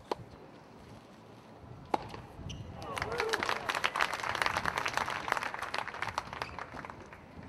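At a Delray Beach tennis match, the home crowd applauds in a burst of scattered clapping that swells after a sharp ball strike, moderately distant and somewhat faint.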